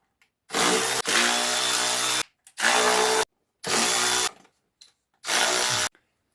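A power tool, likely a drill or impact driver, works on the 8mm bolts of a three-piece timing cover on a Hyundai Terracan diesel during a cam belt job, with five loud sustained bursts separated by short pauses.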